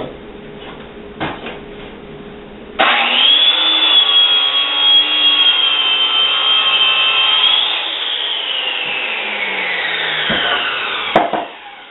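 A saw rips wood boards into 3.5-inch strips for acoustic panels, a loud, steady whining cut that lasts several seconds, drops slightly in pitch and then spins down, with faint knocks before and after.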